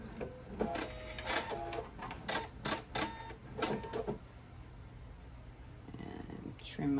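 A sewing machine stitches a fabric thread catcher in short bursts of rapid mechanical whirring, pausing between runs, with a voice talking over parts of it before the motor falls quiet.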